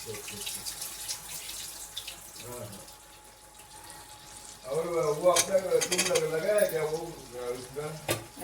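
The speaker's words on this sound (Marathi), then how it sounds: "आता व्यवस्थित हे बटाटे परतून घेऊया" Potatoes sauté in a pan, with a soft sizzle building into louder stirring and scraping in the second half while a person speaks over it.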